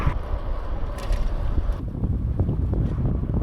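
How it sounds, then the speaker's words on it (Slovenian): Wind gusts buffet the microphone of a cyclist riding downhill along a former railway line turned bike route from Czechia into Austria, a loud continuous rumble that shifts partway through, with no talk. "veter mi piha v hrbet"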